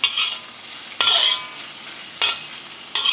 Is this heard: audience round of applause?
no